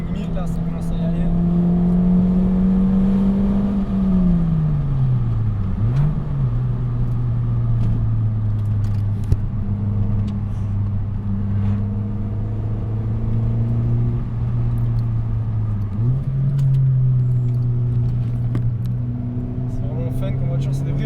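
A Mini R50 car engine revs hard at high rpm, its droning tone climbing and then dropping as the gears shift, before settling into a sustained loud hum that rises again near the end.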